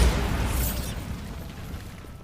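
Bombarda blasting spell detonating in Hogwarts Legacy, a loud close burst that opens the clip and fades into a rumbling, crackling decay over about a second before settling into a low hum.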